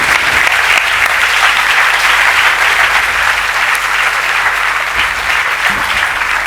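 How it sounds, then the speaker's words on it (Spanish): Sustained, loud applause from a seated audience at a church pastoral conference welcoming a bishop, dense clapping that holds evenly from start to finish with no talk over it. "Un aplauso para Monseñor."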